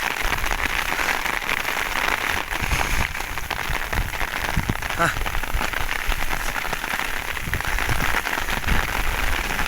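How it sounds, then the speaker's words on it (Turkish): Heavy rain pours steadily onto a hard surface, a dense continuous patter, with a brief voice exclamation. "yağmurun şiddetini görüyor musun?"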